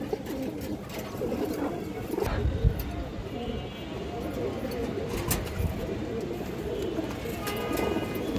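Old-breed pigeons kept for sale coo in soft, repeated low calls, with a few louder thumps and people talking close by.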